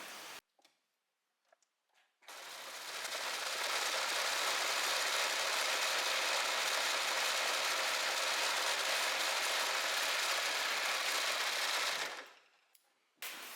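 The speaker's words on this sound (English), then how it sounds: "what I'm going to do first is I'm going to overlock" An overlocker serges the edge of a blouse back facing, a loud, steady mechanical whirr with rapid ticking that runs for about ten seconds without pause, with brief quiet handling noises before it starts.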